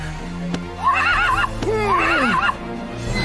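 A horse whinnies twice in close succession, loud and near, each neigh a wavering high call falling into a lower snort, with a faint hoof clop and background noise between.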